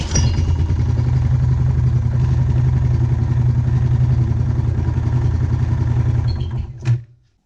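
Honda Foreman 450ES ATV engine, started by pull cord because the electric starter has failed, runs loud and close with a steady rough mid-pitched chugging for about six seconds, then stops with a brief final clatter and falls silent.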